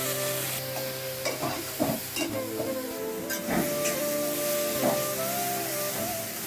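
Ground turmeric, coriander, Kashmiri chili powder and salt fry in oil in a pan over medium heat for a raw banana curry. A steady, close sizzle continues throughout, with stirring scrapes and clinks over a constant hum.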